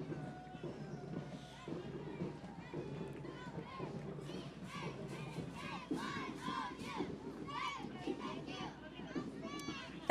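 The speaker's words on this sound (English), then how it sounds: "they would like to honor all veterans by giving a cheer in their name with a loud and proud thank you" An elementary school cheer team at a Veterans Day parade in Houston shouts a cheer in unison, rising and falling in loud rhythmic group chants amid outdoor crowd noise.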